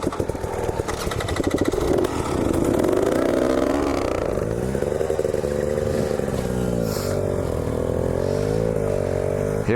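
Two-stroke KTM 300 XC-W TPI dirt bike engine running steadily and revving under load while towing another bike on a strap, loud and close with a droning exhaust note that rises and falls.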